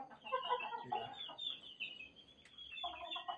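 A gamecock clucks in short bursts nearby, with brief quiet gaps between the calls and faint outdoor background.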